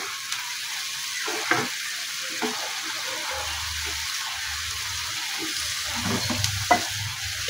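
Tomatoes added one by one to frying spices in a pan for a fish curry, a steady sizzle broken by soft drops, scrapes and stirring knocks at close range.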